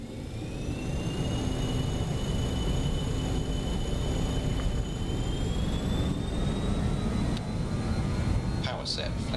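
BAe 146 jet engines at takeoff power in MSFS 2024, a loud sustained roar with rising turbine whines climbing steadily in pitch, continuous and near, with brief talk near the end.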